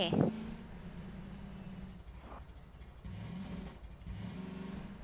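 A car in a video game drives and turns around, a steady mid-pitched engine drone that dips and swells as it turns, with a brief knock at the start, heard alone.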